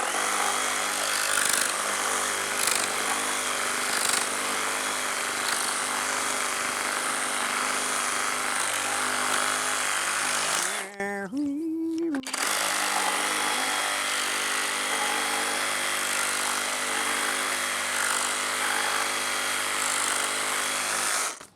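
FLEX reciprocating saw cutting wood in orbital mode, a loud, harsh, continuous buzzing cut up close with a brief break around the middle before it resumes.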